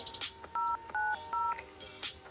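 A mobile phone dials a call, giving three short, evenly spaced keypad tones over faint background clicks and room noise.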